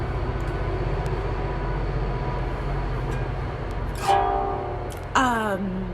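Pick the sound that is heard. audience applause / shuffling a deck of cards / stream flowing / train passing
train passing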